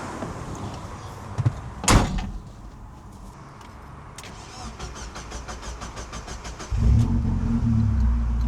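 A Mazda Miata pulls up at a bookstore after a short drive: a car door shuts with a sharp thud, a low engine hum runs beneath, and the engine note swells loudly near the end.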